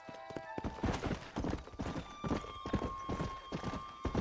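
Horse hooves clip-clopping at a steady trot in Red Dead Redemption on Xbox One X, rhythmic and close, with faint tonal game music beneath and a brief whinny early on.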